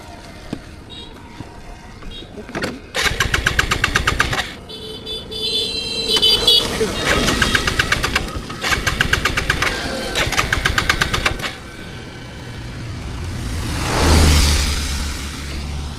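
A motorcycle's engine is cranked repeatedly in several sputtering bursts of a few seconds each, with pauses in between and occasional voices nearby.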